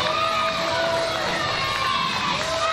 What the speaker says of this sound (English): Oh, the crowd love it.